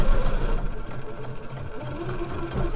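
A sewing machine stitches a seam through several bulky layers of a handmade slipper boot turned inside out, running as a steady close mechanical whirr for the whole stretch.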